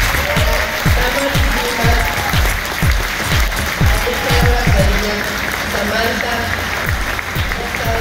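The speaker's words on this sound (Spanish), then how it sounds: "les voy a pedir un aplauso para ellas" Audience applause for two women leading a team at a choral concert in Tijuana, steady clapping throughout with some louder low thumps scattered within it.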